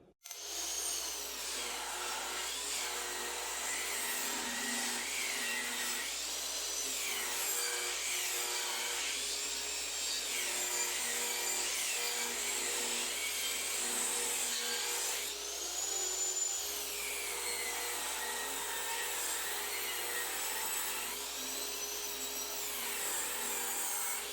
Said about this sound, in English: you have to cut a 45-degree bevel in 2 of these 2x4s.